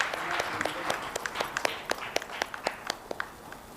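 A conference audience claps in scattered, distinct individual claps, light and sparse rather than a dense roar, heard from a short distance with no speech over it.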